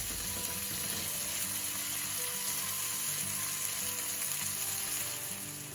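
Chicken scallopini frying in a pan, a continuous close hiss and sizzle of hot oil that holds steady before easing slightly at the end, with no talk.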